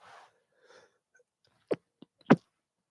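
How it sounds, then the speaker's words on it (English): Stifled sneeze held back near a microphone during a UFC 320 reaction show: faint breathy sniffs, then two short muffled bursts and a small catch between them, all quiet and close in an otherwise silent room. "I tried to keep that one in so I didn't sneeze in the mic."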